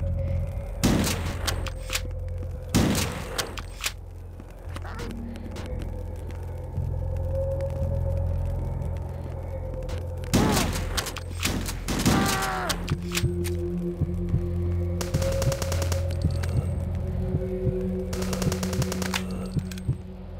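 Gunfire in the shooter HROT comes as sharp, loud bursts of shots in clusters, some in rapid machine-gun strings, over a low rumbling game ambience, with quieter gaps between volleys and no speech.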